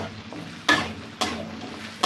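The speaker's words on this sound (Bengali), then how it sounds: "সব আলুগুলো দিয়ে দিই, ভালো করে ভেজে নিই।" Small diced potatoes fry in hot oil in a pan. The sizzle is steady and close, broken by two sharp bursts as the pieces are stirred. No one speaks.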